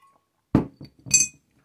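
A few light glass clinks as someone takes a drink, a small knock followed by a bright ringing chink, close and quiet in an otherwise still room.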